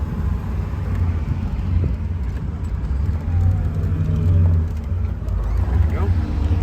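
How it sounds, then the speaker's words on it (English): A 1969 Chevrolet Camaro RS SS 396 V8 convertible downshifts, its engine rumbling low and steady close by with rising and falling revs, while voices talk over it. "Show you downshifting here."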